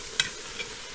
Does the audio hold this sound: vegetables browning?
yes